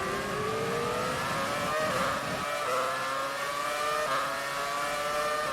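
A Formula 1 car in the video game F1 2019 roars continuously at high revs, its V8-style engine pitch climbing and dropping through gear changes, loud and close.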